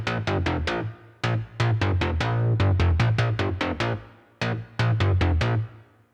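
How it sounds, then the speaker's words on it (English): An analog FM bass patch on an Arturia Polybrute synth plays a punchy pattern of short, bright-edged bass notes in quick rhythmic bursts with brief pauses between phrases, loud and alone. "okay, let's make an analog FM bass."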